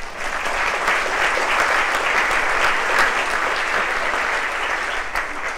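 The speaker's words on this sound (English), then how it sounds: "something for which they deserve yet another round of applause" A panel-discussion audience at the Ojai Chautauqua claps for the panelists: dense, steady applause from a full room that holds at an even level for several seconds with no talk over it.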